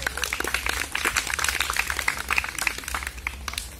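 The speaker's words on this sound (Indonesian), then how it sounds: "Tepuk tangan dulu dong" A small group claps steadily and fairly close at a paintball field in Jakarta, a dense patter of many hands that keeps going for several seconds with almost no talking.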